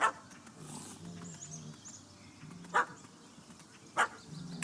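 A dog in The Witcher 3 video game barks several times in sharp, separated bursts over a low ambient game soundscape.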